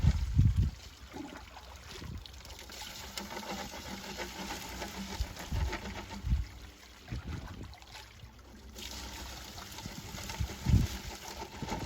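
Water sloshes and trickles as a gold pan is rocked in a gold-rich gully, a soft, steady watery agitation with occasional louder splashes, close and without talk.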